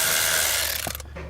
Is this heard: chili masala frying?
no